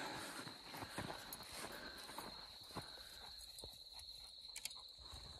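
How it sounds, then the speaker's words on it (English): A steady, high-pitched chorus of crickets chirping in the weeds of a desert canyon, with faint footsteps and rustling underneath. "Sure, a lot of crickets out here."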